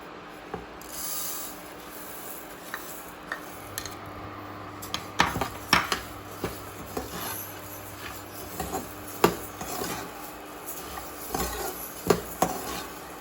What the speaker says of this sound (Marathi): तर आता आपण धने भाजून घेऊयात